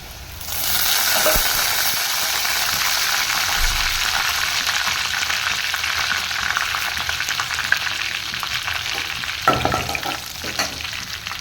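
Onions sizzle steadily in a hot pan while being sautéed for a dhal ball kurma, a loud continuous frying hiss with occasional stirring scrapes close by.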